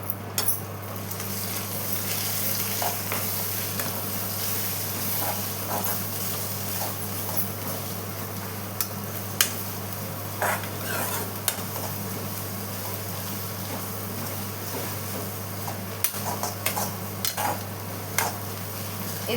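Beaten egg with salt being stirred in a frying pan, a steady soft scraping and faint sizzle running through, with a constant low hum beneath and occasional sharper clicks of the utensil against the pan.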